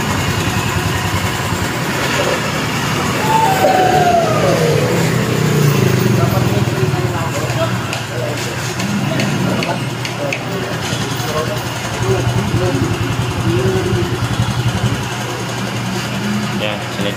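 A Honda Click scooter engine idles steadily with a constant low mechanical hum and fine rattling for the whole stretch, while someone talks over it nearby.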